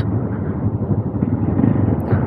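A Suzuki GSX250R motorcycle engine rumbles nearby, its revs rising and falling slightly, loud and steady, with no voices.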